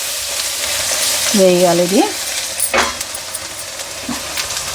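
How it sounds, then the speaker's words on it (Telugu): Chicken fries in hot oil in a home kitchen for pepper chicken, a loud continuous sizzle and hiss close up, with a short squeaky scrape and a few spoken words over it. "ఇది మంచిగా కొంచెం నూనెలో వేగాల."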